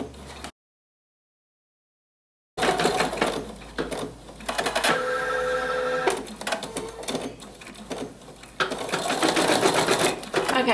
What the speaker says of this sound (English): it's going to also stitch the stem at this point.